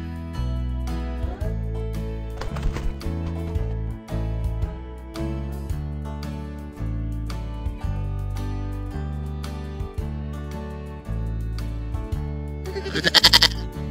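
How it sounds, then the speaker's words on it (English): A goat gives a short bleat near the end, heard over continuous, loud background music. "Goat."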